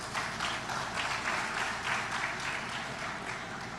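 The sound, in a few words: audience applause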